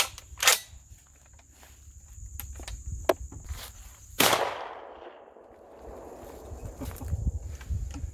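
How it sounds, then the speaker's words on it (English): A Rock Island Armory VRPA40 shotgun loaded with 9-pellet double-aught buckshot fires one sharp, loud blast outdoors at a 25-yard range, followed by a decaying echo. Quieter clicks and handling noises come before it. "Now we're going to try some 9 pellet double-aught buckshot."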